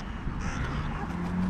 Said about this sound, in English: look at these silver gulls